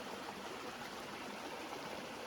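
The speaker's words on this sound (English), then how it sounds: "Nice run of water from the shut-ins" Water runs steadily through the shut-ins, a narrow channel of 1.5-billion-year-old volcanic rhyolite in Prairie Hollow Gorge, Missouri. A close, continuous rushing wash with no break, and no voices.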